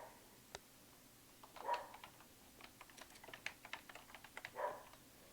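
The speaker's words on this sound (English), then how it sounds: "so I'm going to type David Castillo" Fingers type on a computer keyboard in short, irregular bursts of quiet clicks, faint and close, with a brief louder rustle partway through and no speech.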